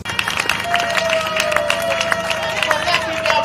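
Crowd at a political party's first anniversary celebration clapping, with rhythmic, close claps and crowd noise throughout, mixed with voices and a sustained tone.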